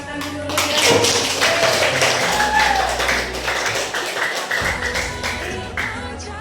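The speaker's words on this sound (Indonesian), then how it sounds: "kita tepuk tangan dulu ya" A classroom group of students applauds a presenting student group. The clapping is sustained and fairly loud for several seconds.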